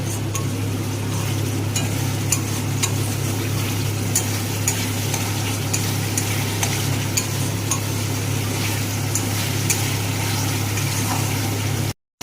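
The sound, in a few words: spice paste being stir-fried in a pan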